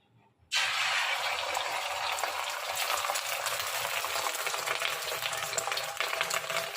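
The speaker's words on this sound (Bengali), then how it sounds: "তো চিন্তা করলাম আবার দুটো ডিম আমলেট করে নিই।" Eggs frying in a pan for an omelette give a loud, steady broadband sizzle that starts abruptly and continues unbroken to the end, with no talk over it.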